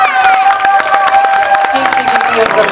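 A crowd applauds and cheers loudly and continuously at a live event with music, with a voice carrying over the clapping.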